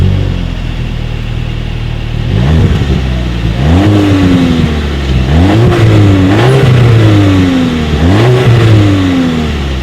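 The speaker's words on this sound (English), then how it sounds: "here is that exhaust clip." A 2018 Volkswagen Beetle Coast with dual exhaust outlets, revved several times from idle, each blip rising and falling in pitch, close and loud with no talking.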